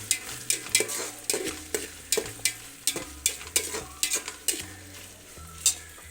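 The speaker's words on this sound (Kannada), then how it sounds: "ಈಗ ಹಿಂಗೆ ಫ್ರೈ ಮಾಡಬೇಕು ಟಮಾಟಿನ" Tomatoes fry and sizzle in a hostel kitchen pan while a spoon stirs them, giving sharp scraping clinks in an irregular rhythm over a soft steady sizzle, close and moderately quiet.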